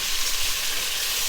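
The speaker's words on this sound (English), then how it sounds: "the sizzling was getting really loud" Meat sears in a hot pan with a loud, dense, continuous sizzle and crackle, close up and uninterrupted.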